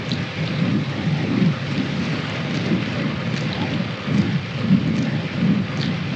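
Rain shower with wind at about 2 degrees, a steady rushing hiss over low gusty rumbles that swell and fade in waves, close and continuous with no talking.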